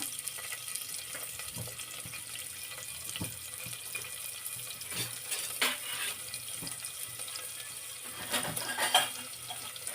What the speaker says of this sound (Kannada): ಈಗ ಏನು ನಾವು ಫ್ರೈ ಮಾಡ್ಕೊತಿದ್ದೀನಿ ಈರುಳ್ಳಿ